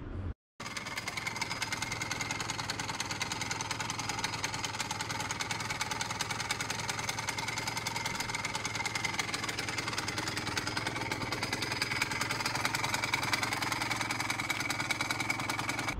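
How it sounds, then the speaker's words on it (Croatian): A scooter engine idles steadily with a continuous, slightly rattling drone that stays even throughout, no voices present. "Vaš skuter radi ovako."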